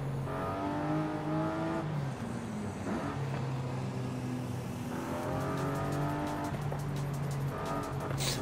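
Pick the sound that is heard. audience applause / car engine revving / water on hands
car engine revving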